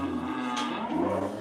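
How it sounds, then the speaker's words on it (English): A Highland cow gives a low, steady moo that fills the whole stretch, close by, with a brief rustle partway through. "Nothing beats a Highland cow"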